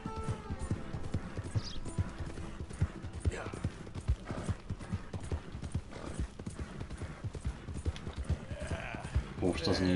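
Hooves clip-clop in a steady, brisk rhythm close by in the video game Red Dead Redemption 2, with a brief whinny and talking over the top.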